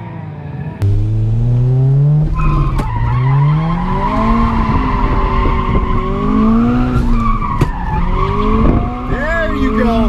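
A turbocharged Subaru BRZ drifts with its engine revving hard and rising and falling in pitch while the tires skid and squeal continuously at close range, with occasional voices in the background.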